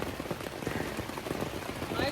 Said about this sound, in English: I don't have the tent battened down, so I was not ready for rain.